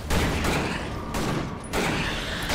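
Shotgun blasts in the action game Victor Vran, three heavy, booming bursts in quick succession, loud and near, each trailing into a dense rumble with no speech.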